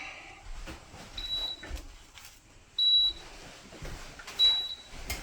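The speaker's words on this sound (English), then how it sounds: "We'll shut that annoying beeping crap off." An air fryer emits three short, high electronic beeps at steady intervals, clear and close over faint background noise.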